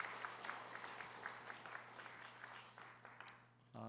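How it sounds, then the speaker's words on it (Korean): A church congregation at a revival service claps together in a soft, distant patter with a faint rhythmic pulse, over a steady low hum from the room's sound system, before fading out. "박수 한번 쳐주시죠"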